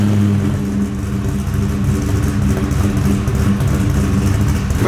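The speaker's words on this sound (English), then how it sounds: "Let's start this thing up" A deep V8 pushrod engine in a Fox-body car starts and runs loud and close, a steady throaty rumble with slight surges in pitch as it revs.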